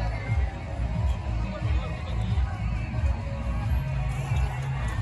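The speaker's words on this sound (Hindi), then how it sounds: "तो यहाँ पे आज बहुत भीड़ है" Crowd at a busy night fair (mela), a constant murmur of many voices and shuffling close around, with occasional louder shouts rising from the babble.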